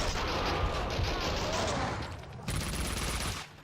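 Desert Eagle pistol shots in the Max Payne 2 shooter game, loud booming reports with dense action noise over several seconds, dropping briefly before another burst, a player's voice faintly beneath.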